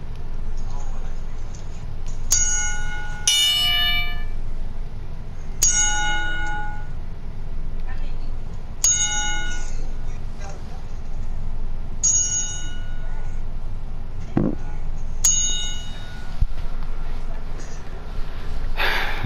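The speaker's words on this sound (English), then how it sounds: "bow your heads in prayer for the five-bell salute" Five-bell salute for a late professional wrestler at a PEW Clashnight event, a ringside bell struck five times at steady intervals of about three seconds, each clang ringing bright and decaying over a low hum of the crowd.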